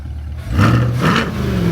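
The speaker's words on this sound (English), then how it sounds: "Let me give you a little rev so you guys can hear." A Chevrolet C8 Corvette with stock exhaust and open valves lets out a single loud, close rev that swells into a roar and holds before easing off.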